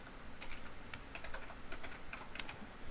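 Keys on a computer keyboard are tapped to enter a console command in Counter-Strike: Source, giving a quick, uneven run of soft, faint clicks close to the microphone, with no talk.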